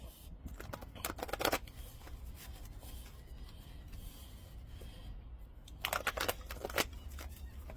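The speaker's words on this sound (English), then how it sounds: "I just want you guys to see me shuffle" Angel oracle cards are shuffled in two short, quiet bursts of riffling and sliding, with soft handling noises in between over a low background hum.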